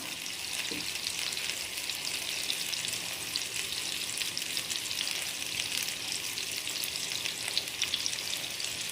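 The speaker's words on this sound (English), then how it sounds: "There is just something about cooking with olive oil and the combination of the garlic, the basil" Sausage balls fry in olive oil with garlic and basil, a continuous bright sizzle and crackle holding steady at moderate volume, with occasional soft pops and stirring.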